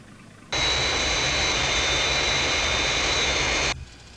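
A Fireflash jet airliner approaching the runway to land, a loud, broad jet roar that starts abruptly, holds steady with a high whine on top for about three seconds, then cuts off.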